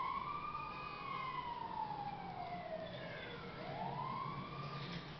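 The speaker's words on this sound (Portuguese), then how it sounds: "Ambulância chegando." An ambulance siren in GTA 5 wails in long rising and falling sweeps, fairly close and steady over a low traffic rumble, with no talking.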